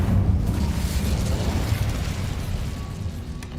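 Casting the Incendio fire spell in Hogwarts Legacy gives a sustained whooshing, rumbling burst that starts strong and slowly fades over several seconds, with no one talking.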